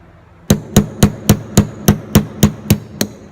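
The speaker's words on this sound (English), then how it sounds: "we've got our roll pin out. We're done with this hammer." Stock hammer tapping a punch to drive a roll pin out during a short-stroke kit installation on a PF9 pistol: ten sharp metallic taps in an even, fairly quick rhythm, close and loud with no talking.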